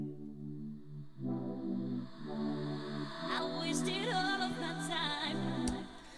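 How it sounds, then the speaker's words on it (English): A synth pad played through reverb fades in and swells into a lush, sustained wash, with layered chords thickening over about six seconds and bright shimmer building on top, with no voice over it. "You get that nice, beautiful swell."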